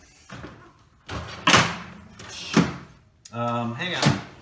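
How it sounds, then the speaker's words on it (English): Wooden knocks and a sliding kitchen drawer, followed by clattering as items are moved around inside, with a voice speaking briefly near the end. "Let me see what I've got in the magic drawer"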